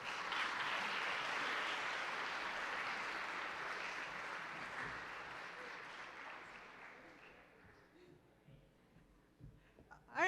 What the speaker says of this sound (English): can we have another round of applause for President Paxson